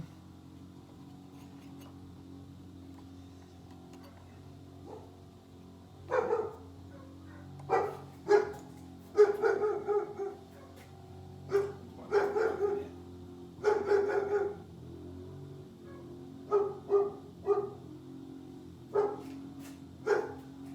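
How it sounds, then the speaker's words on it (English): A German Shepherd barks repeatedly at a distance, short bursts and clusters of woofs spaced irregularly over a low steady hum, with no speech. "No idea what she's barking at. Another dog, I think. It's my German Shepherd."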